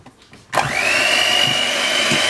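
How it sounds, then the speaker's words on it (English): A cake mixture with vanilla essence is whisked in a bowl: after a brief quiet moment a steady, loud electric whirring starts abruptly and runs on continuously. "Now just give it another whisk."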